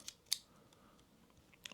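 Scissors clicking into place on a ROXON FLEX Companion modular multitool, a few sharp, quiet snaps at the start and end with soft handling noise between.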